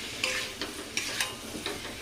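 Spices being sautéed in a pan while stirred, with a steady sizzle and several sharp scraping strokes of a spoon, close and loud with no talking.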